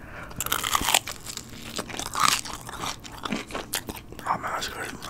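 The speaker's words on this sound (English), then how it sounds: "if you can hear the crunch like this" Crunchy Little Caesars Crazy Puffs are bitten and chewed up close, giving repeated crisp crunches in an irregular rhythm with faint mouth sounds between bites.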